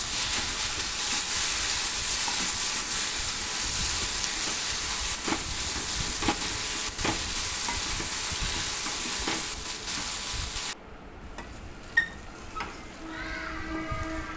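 Chickpea kadala roast with onion and coriander simmers and sizzles steadily in a pan, a loud continuous hiss with scattered clicks of stirring, then quieter clinks near the end.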